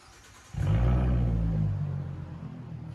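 A 2017 Ford Mustang 3.7L V6 with true dual straight-pipe exhaust and an X-pipe fires up and rumbles loudly close by, a deep, steady exhaust roar that eases slightly toward the end.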